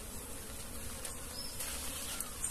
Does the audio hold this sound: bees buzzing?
yes